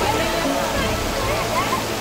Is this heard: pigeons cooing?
no